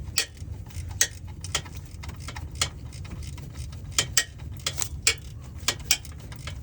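A Snap-on XFRRM705 ratcheting box wrench works a lower AC compressor bolt on a 2014 GMC All-Terrain, giving steady close clicking over a low background hum, with no voice.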